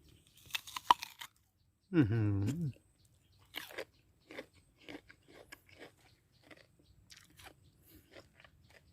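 Fresh two-flavoured jujube, sweet-sour with thick flesh, is bitten and chewed close up: a few sharp crisp crunches, then a string of smaller chewing crackles. A short vocal sound comes before them.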